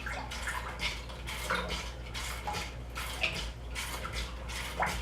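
Water splashes and sloshes inside a disinfected mead brewing container as it is rinsed, in close, uneven bursts with a few light clinks against the vessel.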